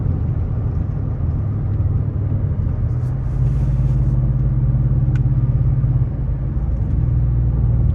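A Ford F-150 pickup with a 5.0 V8 and Flowmaster 40 exhaust drives along and downshifts, giving a steady deep low rumble with a slight rise in engine drone partway through, heard from inside the cab.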